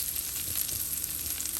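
Green chillies with fenugreek and asafoetida crackling in hot oil for a curry lime pickle, a close, steady sizzle with fine popping throughout the short moment.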